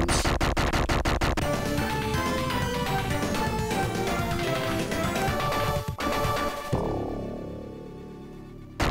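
Video game explosions from Gunstar Heroes on the Sega Mega Drive: loud, dense bursts of crashing blasts in a rapid chattering rhythm, ending in a big crash that decays away.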